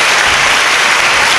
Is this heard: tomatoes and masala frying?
no